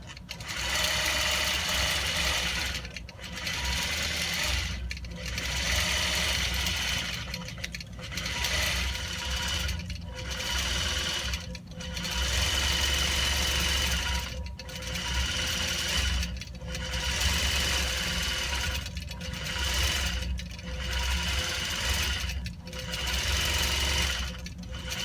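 A computerized quilting machine stitches in a rapid, mechanical chatter, running in evenly spaced bursts with short pauses between them, steady and close throughout.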